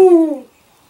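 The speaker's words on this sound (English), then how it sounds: "Owls hoot." An owl gives one loud, close hoot, a clear tone that slides slightly downward in pitch for under half a second before fading into silence.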